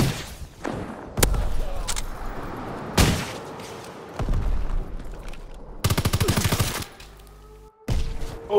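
Bursts of MG 81 machine gun fire in a Call of Duty: WWII Ground War match, several loud rapid strings of shots separated by pauses, with a near-continuous fast rattle toward the end.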